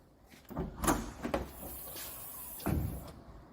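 A rear canopy door on a ute being handled: a few hollow metallic clunks and thuds, with a louder latch-like bang near the end.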